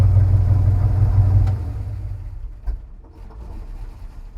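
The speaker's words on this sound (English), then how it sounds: "Idle's a little bit high." A 1965 Ford F-250 pickup's engine idles a little high, with a steady, low, even rumble, easing slightly quieter partway through, with a few small clicks near the end.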